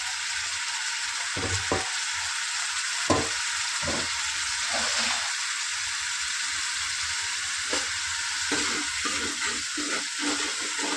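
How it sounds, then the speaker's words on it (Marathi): Spice paste fries in oil for mutton curry, a steady loud sizzle running throughout with occasional stirring scrapes and knocks close by. "वाटण आपण चांगलं तेलामध्ये परतून घेऊयात."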